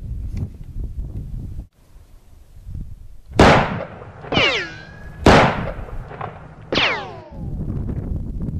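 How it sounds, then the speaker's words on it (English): Shots from an SR-25 designated marksman rifle fired outdoors crack sharply, two main blasts each followed by a ringing, whistling echo tail, over low background rumble. "get in position to shoot his SR-25 designated marksman rifle"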